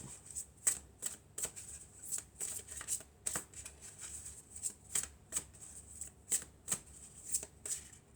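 Oracle cards from an angel and crystal deck are shuffled by hand in a quiet room, a steady series of close, crisp riffling flutters repeating roughly every half second, with no talking.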